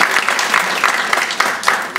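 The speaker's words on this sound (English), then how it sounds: "Another nice little round of applause." Audience applause at a senior pageant, a moderately sized crowd clapping with distinct sharp claps standing out over a steady patter, close and fairly loud.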